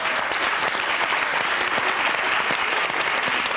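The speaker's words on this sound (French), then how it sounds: "On l'applaudit." Studio audience at a French television game show, Pyramide, applauding steadily for a contestant's brother being introduced, a dense continuous clatter of many hands held at an even loudness throughout with no voices over it.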